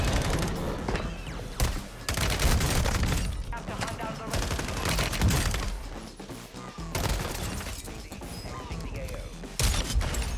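Continuous rapid automatic fire from an SMG fitted with a Lock Shot muzzle in Warzone, loud and sustained with brief gaps between bursts.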